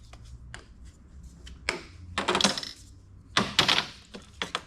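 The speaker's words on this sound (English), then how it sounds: "Now we're gonna cut ourselves a little section of PEX B." PEX B plastic water pipe being cut for a mobile home leak repair, heard as a few sharp snaps and clacky knocks of the cutter over a low hum, close and fairly loud.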